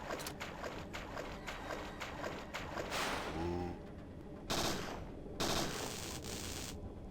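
Hydra gunfire in the video game Parasite Eve II, a run of rapid, fairly loud shots and blasts with several broad bursts, heard without any talk.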